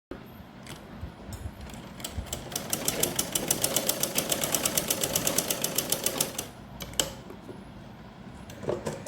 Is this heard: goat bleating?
no